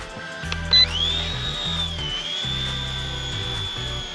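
A C138 RC helicopter spins up, its electric rotor motor whining upward in pitch and then settling into a steady high drone. Low rhythmic beeping pulses sound beneath it in short bursts, close and fairly loud.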